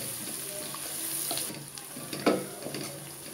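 Half a cup of chopped onions frying in a pan for chicken pulao: a steady, close sizzle with occasional stirring scrapes and a sharper clatter midway.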